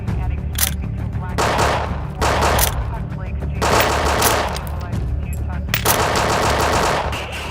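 Rapid bursts of gunfire from a passenger shooting at a police officer, loud and close, crackling repeatedly through the whole stretch in dense volleys with a constant low rumble beneath.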